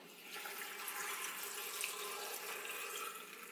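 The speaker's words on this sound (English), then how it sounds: "Pour some water in." A steady, gentle stream of water pouring into a KitchenAid 5-speed blender jar, faint and continuous for a few seconds with no voices.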